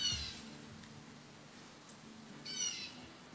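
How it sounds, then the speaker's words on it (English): A blue jay gives two short, harsh alarm calls, one at the start and one near the end, moderately near against a low steady background hum, with a faint chirp between them. "So here you hear the blue jay calling its own name."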